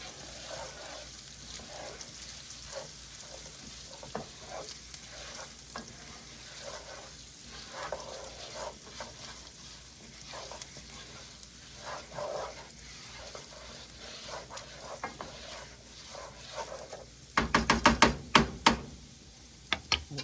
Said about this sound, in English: All right, let's give it a stir here.